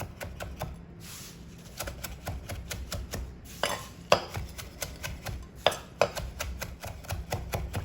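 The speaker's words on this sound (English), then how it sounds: "As you're chopping, you can smell that aroma from the garlic, the basil, and the herbs." A knife chops garlic, basil and herbs for pesto in a kitchen: rapid, close, rhythmic taps on a cutting board with a few short pauses and some sharper louder strikes.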